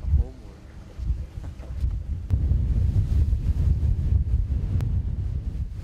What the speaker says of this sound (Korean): 밤이 깊을수록 파도는 거세지고 얼음처럼 차가운 바닷물이 들이쳐